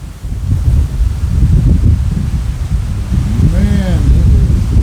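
Strong wind during a dust storm outdoors near a parking lot, a loud continuous rumbling buffet against the microphone with gusts, and a voice speaking over it near the end.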